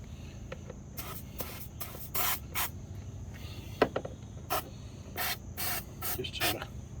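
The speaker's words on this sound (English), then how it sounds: "So I'm just going to spray it liberally wherever I can get to it." Belt conditioner sprayed from an aerosol can onto a Husqvarna mower's belt and pulley, a series of short hissing bursts in an irregular rhythm, close and fairly quiet over a low background hum.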